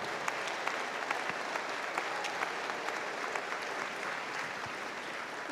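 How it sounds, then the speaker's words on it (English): Audience applause at an honorary ceremony, a sustained, even standing ovation from a large crowd, moderately distant and steady throughout with no speech. "let's get up and give her a round of applause"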